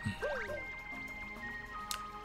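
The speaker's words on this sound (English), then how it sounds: "Did I just fall in the water?" A character falls into water in the video game Bowser's Fury, giving a quick soft splash and bubbly droplet sounds, with springy game tones and chiming effects ringing faintly around it.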